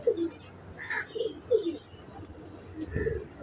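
A pigeon coos in soft, repeated low throaty notes, close by, with some background chatter and rustling in between.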